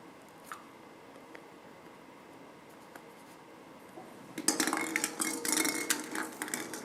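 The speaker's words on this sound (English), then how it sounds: "And now I will put this FC Nasaf into pot" A draw ball for the AFC Champions League draw dropped into a pot, first quiet with faint taps, then a burst of rattling, clattering plastic-like knocks and shuffling that continues to the end.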